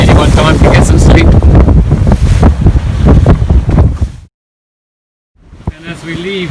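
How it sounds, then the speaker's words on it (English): Strong wind of about 20 knots buffets the microphone aboard a sailing boat in the North Sea, loud gusty roaring with splashing water, cutting out briefly near the end before the wind noise returns. "Still got about 20 knots of wind"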